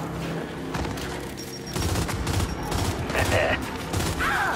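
A frag grenade blast in Gears 5 on the Atrium map, heard amid a busy firefight with bursts of gunfire, booming impacts and shouted voices over dense combat noise.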